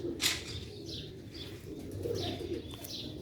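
Sialkoti black-faced pigeons coo quietly and steadily, with a few higher chirps and faint wing sounds, heard alone at a moderate distance.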